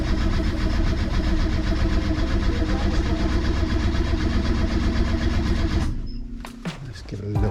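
The starter motor cranks a Renault 1397cc C2J engine swapped into a Renault R8 Proto, a loud steady mechanical churn for about six seconds that then cuts off, leaving a few faint clicks and knocks.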